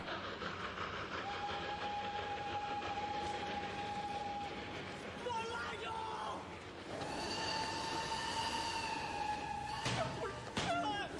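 A train rolls by with a steady rumble and clatter of wagons, while a long whistle tone sounds and then returns higher and stronger. Sharp clanks come near the end, and a voice speaks faintly underneath.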